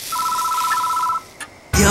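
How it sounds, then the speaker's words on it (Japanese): A telephone rings in the horror game Spirit Hunter: Death Mark with a single sustained electronic bell tone lasting about a second. A brief blip follows, then a loud burst of broadband noise at the end. "電話のベルが呼んでいた。"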